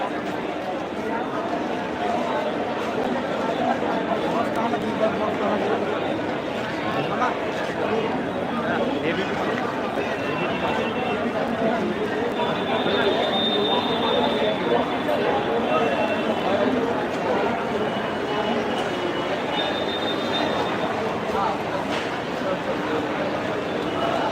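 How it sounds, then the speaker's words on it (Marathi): A large crowd at Virar railway station fills the space with a dense, continuous murmur of many voices and footsteps, with occasional faint tones rising above the din. "विरार रेल्वे स्टेशनमध्ये ही गर्दी झालेली आहे मोठ्या प्रमाणामध्ये"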